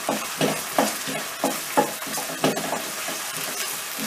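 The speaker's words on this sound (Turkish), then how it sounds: "Şöyle de salçayı güzelce karıştırıp" Tomato paste frying in oil in a pan, for a bean dish, with a spoon stirring it in a steady rhythm of about ten scraping strokes over a constant close sizzle, with no talking.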